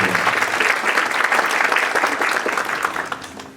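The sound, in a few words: round of applause for the pharmacy sponsor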